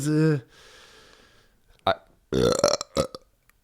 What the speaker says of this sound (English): That burp was brought to you by Screwball Peanut Butter Whiskey.